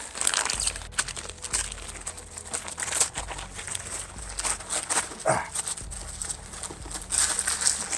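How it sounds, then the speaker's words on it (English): Plastic bag holding Honda CBX SuperSport carburetor parts crinkles and rustles close by, with irregular crackling bursts throughout and a faint whine in the background. "So I'm going to open up this bag."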